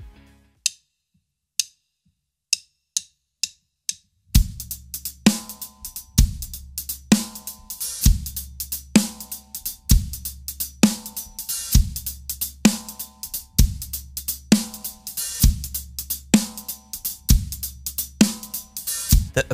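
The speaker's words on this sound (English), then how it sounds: "And now we just add the bass drum on beat 1, and the groove sounds like this." Drum kit groove in a pop, hip-hop style: a few sharp hi-hat ticks alone, then a steady pattern with bass drum on beat one and a strong backbeat snare, loud and repeating evenly with no voice.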